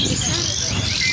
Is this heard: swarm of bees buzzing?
no